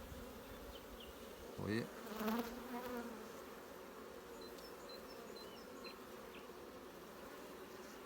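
Honeybees buzzing around an open hive, a steady, dense hum of many insects close by, with a brief louder pass of a nearby bee and a few words spoken softly over it.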